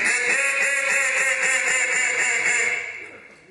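A duck call blown to mimic a mallard hen gives a loud, steady run of rapid nasal quacks, about a dozen evenly spaced notes that fade out at the end, with no talk.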